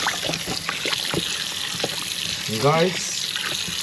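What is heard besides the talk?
tap water running while washing pork baby back ribs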